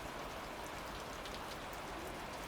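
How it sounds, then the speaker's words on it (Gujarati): Light rain falls steadily on a village courtyard, a soft even patter with no pauses, faint and close. "આવો કંઈક આવે છે વરસાદ."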